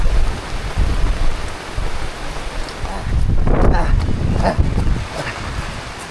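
Heavy rain and gusting wind from a storm at Coral Rocks Cottages in Real, Quezon, roar steadily close to the microphone, with buffeting rumbles throughout and voices faintly underneath.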